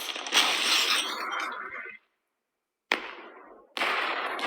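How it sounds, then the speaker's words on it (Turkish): Fireworks exploding in a city-destruction video game, sharp crackling bursts that fill the first two seconds, a silent gap, then two more loud crackling volleys. "Şimdi havai fişek."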